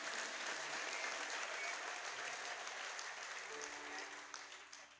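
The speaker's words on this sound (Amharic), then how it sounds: "ለእግዚአብሔር ክብር አጨብጭቡ።" A congregation claps together at a prophetic church service in Dire Dawa, steady and fairly distant, with the applause gradually thinning out toward the end.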